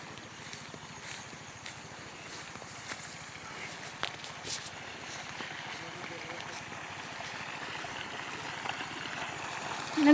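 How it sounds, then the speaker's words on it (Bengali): Water gushes from an irrigation pipe into a rice paddy, a steady rushing flow heard close by with faint footsteps and a voice in the background. "এই যে পাইপ থেকে পানি বের হচ্ছে।"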